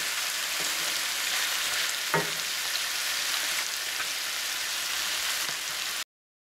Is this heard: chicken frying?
yes